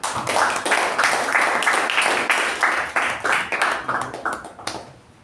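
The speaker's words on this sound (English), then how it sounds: "Let's give a thunderous round of applause for our table topic master, Toastmaster Gajendra." Audience at a Toastmasters club meeting gives a round of applause, close, fairly loud rhythmic clapping from a modest group that gradually thins and stops after about five seconds.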